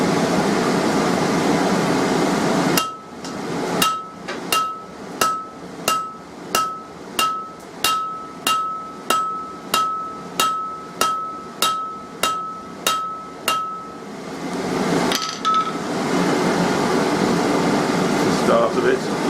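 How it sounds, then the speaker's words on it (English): While forging tongs, a hammer strikes hot steel on an anvil about fifteen times in a steady rhythm, each blow ringing sharply over a constant fan-like whir. "hammer half on and half off the anvil"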